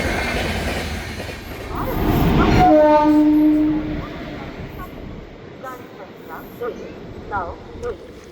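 Train from Ahmedabad pulling into a railway station, its horn blaring loudly for a couple of seconds over rumbling rail noise, then fading into lighter clatter while people talk nearby.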